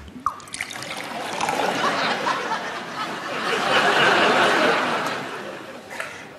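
Water trickles and splashes steadily into a bathroom sink, a continuous broadband wash that swells and fades, with audience laughter and chuckles mixed in around it.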